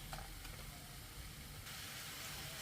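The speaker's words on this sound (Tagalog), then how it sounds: "mantika at maprito siya ng bahagya dito sa uh, mantika niya mismo" Pork frying in its own rendered fat gives a steady, soft sizzle and hiss, close and constant for a few seconds with no talk over it.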